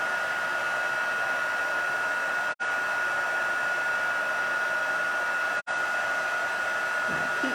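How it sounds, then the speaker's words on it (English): Embossing heat tool blowing hot air, a loud steady whirring hiss close up, cut off briefly twice, with no talking. "My heat tool's not very warm."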